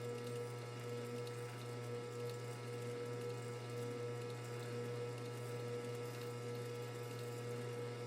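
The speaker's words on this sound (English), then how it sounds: "I can go straight in with a chamfering tool and create quite a heavy, aggressive bevel all in one cut, as long as I run very slowly." A small lathe turning slowly at about 80 RPM while a chamfering tool cuts a heavy bevel in 12L14 steel, a steady faint machine hum with a low whirring drone and no talk.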